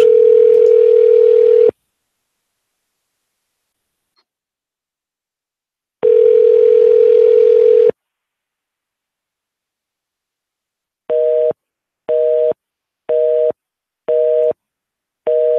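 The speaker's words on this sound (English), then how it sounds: "Rang and then it was busy." A telephone call rings twice in long, loud tones, goes silent, then switches to a rapid series of short busy-signal beeps, all clear and close with no talking.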